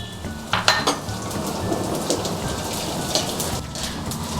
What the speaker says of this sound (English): You need to fry gond at medium temperature.